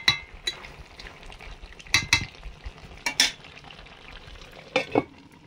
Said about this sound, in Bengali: ফুলকপিটা কষে নেব, সর্ষের তেল দিলাম।